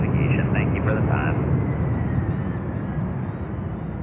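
A Delta Boeing 767-400 jet arriving from London Heathrow at JFK gives off a loud, broad engine rumble that eases slightly over four seconds, with a voice speaking over it.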